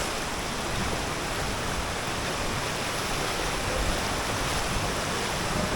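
Strong floodwater current rushing past during a flood, coming down from nearby fields, a dense steady roar of churning water that runs unbroken and loud throughout, with no voices over it.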